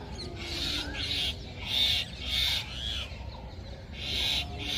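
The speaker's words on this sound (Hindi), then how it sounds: "मैना का जोड़ा है जो तोते से पंगा ले रहा है।" A pair of mynas squabbling with a parrot: repeated loud, harsh screeching calls in regular bursts about every half second to second, close and continuous, with no talking.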